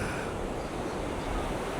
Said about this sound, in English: Oh, the wind blowing, it's cold air